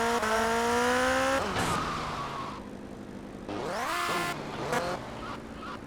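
A motorcycle in GTA Vice City revs and accelerates, its engine whine sweeping up in pitch in repeated bursts with brief tire squeal, loud and close.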